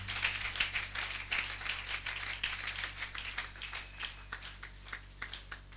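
A church congregation claps hands in praise of Jesus, a dense, steady, lively round of many hands that runs without a break under a low hum, with no words spoken.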